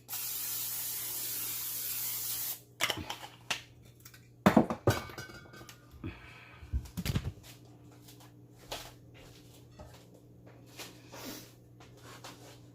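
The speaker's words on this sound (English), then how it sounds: "I'm going to spray my pan with some olive oil spray." A steady hiss of olive oil cooking spray on a pan lasts about two seconds, followed by clunks and light clatter of the pan being handled nearby.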